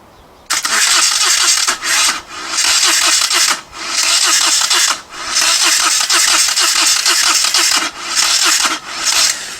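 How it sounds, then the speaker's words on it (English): A Moto Guzzi motorcycle engine is cranked by its new starter motor in repeated bursts, a loud whirring churn that stops and restarts several times without catching. "the new starter motor is now turning over the engine a lot quicker"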